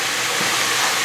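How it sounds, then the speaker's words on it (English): Konjac skinny pasta noodles heating in a pan, giving off a steady, close hiss of steam as the water evaporates, continuous and even with no talking. "So I just put them on and let them sit and evaporate the water. Let it steam off."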